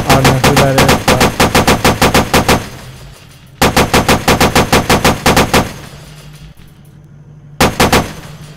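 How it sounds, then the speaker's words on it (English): Video game gunfire rattles in loud, close automatic bursts, three rapid strings of shots separated by short pauses, with no talk over them. "are we getting shot by a terrorist?"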